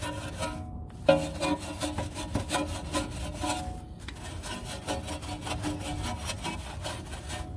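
Detailer brush scrubbing inside the wheel barrels during car wheel cleaning, a close, continuous rapid back-and-forth rasping with brief pauses and no talk.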